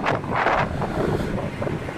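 Strong mountain wind near Drass, Ladakh, roars steadily across the microphone in close, heavy gusts with no voices.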